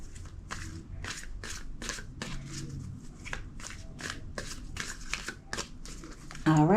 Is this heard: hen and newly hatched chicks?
no